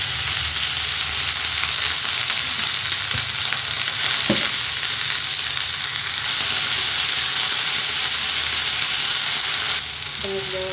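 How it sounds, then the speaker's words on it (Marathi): Cluster beans fry in a thin drizzle of oil in a pan, giving a steady close sizzle with a few brief stirring knocks, and no one speaking. "अगदी थोडीशी तेलाची धार टाकूया."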